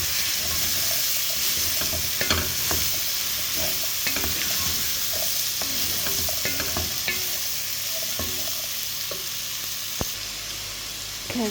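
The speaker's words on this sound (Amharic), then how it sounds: "ከዛ ካሮታችንን ጨምር ትንሽ እናቀላቅለውና" Carrots being stirred into rice frying in a pan for a vegetable rice dish, with steady close sizzling and the scrape and clatter of a utensil mixing throughout.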